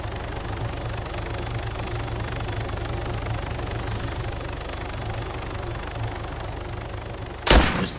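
Sustained rumble of distant gunfire and engine noise around a base in the video game DayZ, a dense continuous roar ending in one sharp loud bang near the end.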